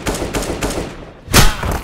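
Rapid automatic gunfire from the video game CS:GO while the player runs, loud bursts of shots throughout with a brief lull and then a heavy blast near the end.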